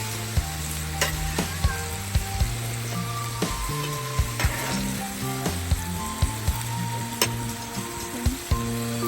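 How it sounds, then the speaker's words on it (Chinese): Garlic stir-fried in a pan at a Kalaloch campground campsite: a steady close sizzle with frequent sharp clinks of the spatula against the pan throughout. "大山头放进去炒"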